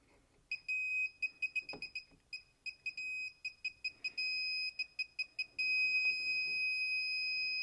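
A circuit breaker finder emits high electronic beeps, first in rapid pulsing runs of short tones, then settling into a solid continuous tone near the end.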